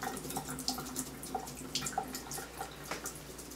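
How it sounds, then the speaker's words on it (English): Water drains from a sieve of acorn grits in a kitchen sink, a light patter of irregular drips and trickles, close and fairly quiet, with no one talking. "now we have a sieve full of grits that will need to drain for a little while"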